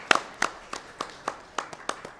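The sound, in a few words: audience applause at awards dinner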